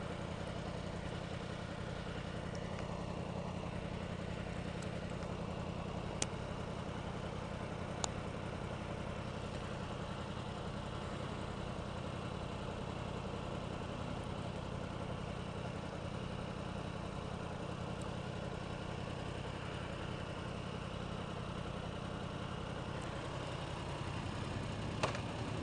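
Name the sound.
vehicle engine idling, stock exhaust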